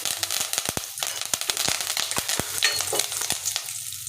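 Curry leaves and whole spices such as cloves and cardamom sizzle and crackle in hot oil for an egg curry, with sharp close pops scattered irregularly over a continuous frying hiss and no talking.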